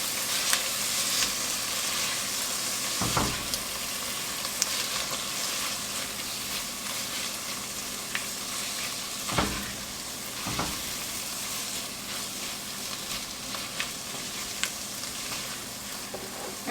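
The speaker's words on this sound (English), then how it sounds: "About 2 tablespoons of tomato paste. Give that a stir." Tomato paste being stirred into a sizzling beef stew with sweet potato, a steady hiss throughout, broken by a few distinct spoon scrapes and clanks against the pot, with no talking.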